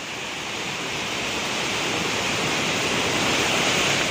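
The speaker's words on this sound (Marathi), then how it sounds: "आणि ही अक्षरशः नदी पाण्याने वाहते" A swollen river in Konkan rushing during heavy monsoon rain, a loud continuous broadband roar of fast water that builds slightly, with no voices.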